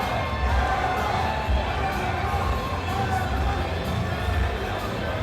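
A large crowd in a boxing arena roars and cheers continuously, a dense loud wash of voices filling the space without a break.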